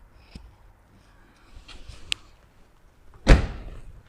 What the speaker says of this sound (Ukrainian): Закриваються двері. Тук!